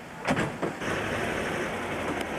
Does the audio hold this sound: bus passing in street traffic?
yes